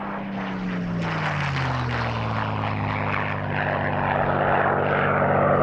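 Spitfire MH434, flown by Ray Hanna in a display at the 1996 Duxford airshow, roars past loud and close. The propeller engine's drone drops in pitch as it passes and stays strong to the end.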